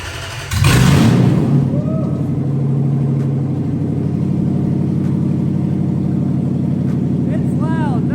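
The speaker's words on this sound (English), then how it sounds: "he's about to start his car. There's no exhaust. It's right off the header." An Audi B5 S4 engine with no exhaust, running straight off the headers, cranks and fires with a loud bark, then settles into a harsh, rumbling idle with light revs, close and very loud.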